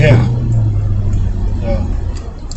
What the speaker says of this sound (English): Do some hard braking and yeah.